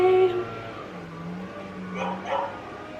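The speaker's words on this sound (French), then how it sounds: "Le chien qui aboie après le type de la voirie." A dog barks at a street worker outside a home on an autumn morning, with a few short, moderate yips and woofs over a low steady background hum.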